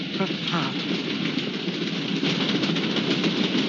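A moving train rattles and clatters steadily along its rails, a dense continuous rumble that runs loud throughout with no clear gaps.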